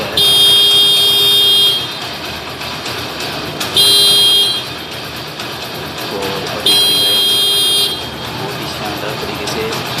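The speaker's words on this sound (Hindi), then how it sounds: "तो अब देखिए इसका जो हॉर्न है इस प्रकार से बज रहा है" A motorcycle horn beeps three times in long, loud blasts separated by pauses, over a low idling engine hum.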